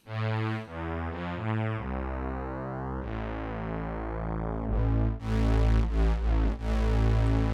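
Cheeze Machine 2 string synthesizer plugin chords shifting in tone and timbre through different waveform shapes, sustained notes changing shape every second or so, played alone without voices.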